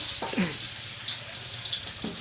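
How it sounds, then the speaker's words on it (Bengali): Rice being washed in water outdoors at a riverside picnic, soft sloshing and trickling with a couple of brief splashes, faint and close with a steady background hiss. "এদিকে দাদু চাল ধোয়াফেলা করছে"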